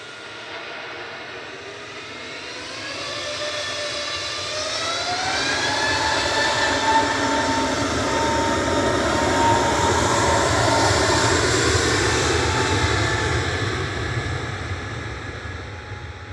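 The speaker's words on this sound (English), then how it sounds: "we got an EasyJet A320 Neo going next to UZLX with flight" An EasyJet Airbus A320 Neo jet at Manchester Airport produces a loud, steady engine roar that swells and holds with a rising whine, heard alone without talk.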